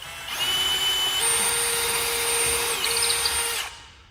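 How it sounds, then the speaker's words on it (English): A power drill bores through a gusset on a gutter bin filter in one steady, loud whine that shifts pitch partway through, then cuts off sharply after about three and a half seconds. "I'll drill this, knowing that my level is correct"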